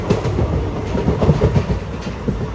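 A Machilipatnam SF Express train rolls along slowly near Hitech City railway station, giving a close, steady rumble with soft, irregular clickety-clack of wheels over rail joints and no voices.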